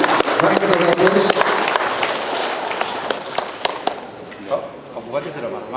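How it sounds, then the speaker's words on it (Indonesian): An audience claps at the opening ceremony of the eighth STQH in West Papua, a burst of scattered hand clapping that thins out over a few seconds while an announcer's voice carries over it. "Mari kita aplaus."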